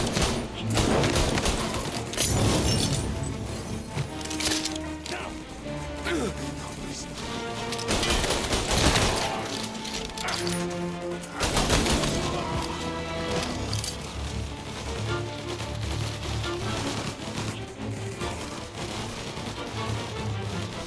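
Dense gunfire rings out in the Mafia Definitive Edition video game, with rapid bursts and heavy shots crowding the scene over a background score, loud and near throughout.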